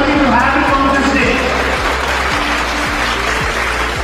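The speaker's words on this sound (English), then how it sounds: "So one more big round of applause for him, please" Audience applause for a sand artist on stage, steady and fairly loud, mixed with crowd noise and a low rhythmic thumping beneath, with speech-like sound present.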